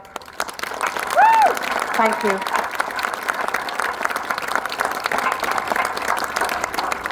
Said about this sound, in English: So they all need a big round of applause.